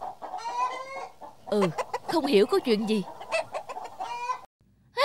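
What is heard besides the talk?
chickens clucking loudly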